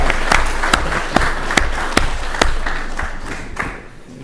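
Scattered applause from attendees at a town select board meeting in Falmouth, a steady wash of clapping punctuated by a few sharper individual claps, moderately loud and continuing throughout.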